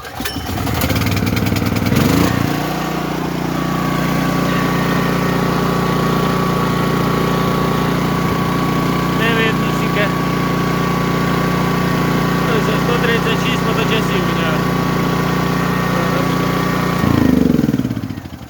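A Dnipro-M GX-70E generator engine with 134 running hours drones steadily and loudly at close range, with a brief change in pitch near the start and again near the end.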